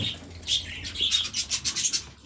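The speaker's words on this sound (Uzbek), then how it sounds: "Mana bitta ham nemis qushlarimiz bor mana." A pair of German-breed birds call with short, high chirps that repeat in a quick, uneven series close by.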